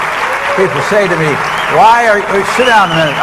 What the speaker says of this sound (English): I know you're trying to applaud